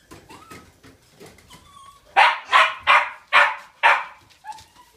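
A Bedlington terrier gives five sharp, loud barks in quick succession, close by, after some softer whimpers and small yips.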